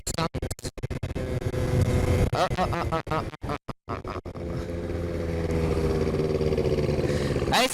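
A scooter engine drones steadily while riding along a country road into a headwind, with heavy wind buffeting and rumble on the microphone early on, then a more even motor hum.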